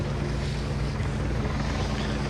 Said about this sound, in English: Dongfang just heading away from the squadron as the TV helicopter buzzes overhead here at Cowes Castle